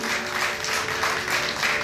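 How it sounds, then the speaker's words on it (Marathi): Hearty applause at a classical Marathi music event, a sustained wash of many hands clapping at even strength, with a faint held tone beneath. "एकदा जोरदार टाळ्या सरांसाठीही आणि बुवांसाठी"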